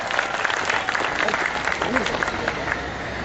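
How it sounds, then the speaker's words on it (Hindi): Applause for a student at a Karachi university event, a steady dense patter of many hands clapping throughout, fairly near, with crowd murmur and a voice briefly audible underneath. "भाई के लिए तालियां हो जाएं।"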